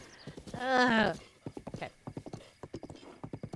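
A horse in the game Zelda: Breath of the Wild gives a loud neigh, then its hooves clip-clop in a quick, steady galloping rhythm, with a brief word spoken over it.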